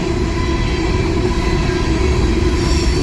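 Empty coal hopper cars roll steadily past on the rails at night, a loud, close, continuous rumble of wheels and car bodies with faint rhythmic clatter and no voices.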